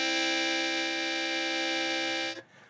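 A harmonica sounds two holes at once in a single sustained, reedy chord with rich overtones, held steady and close for over two seconds before cutting off abruptly.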